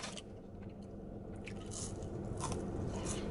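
Someone bites into and chews a large serving of crunchy McDonald's fries close up, producing wet crunching and squishing sounds without any talking.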